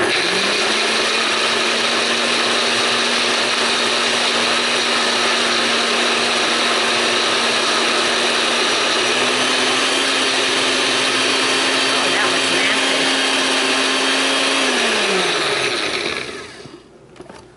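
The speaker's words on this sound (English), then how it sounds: "Put the top on the blender. Put it over here and puree it." A blender runs steadily for about fifteen seconds, loud and close, its motor pitch rising briefly before winding down at the end.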